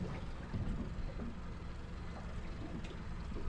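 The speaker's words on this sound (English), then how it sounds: "Just started the engine so that there's another noise in the water." A boat's engine drones in a low, steady rumble near a whale, fairly faint, with a broad hum and no voices.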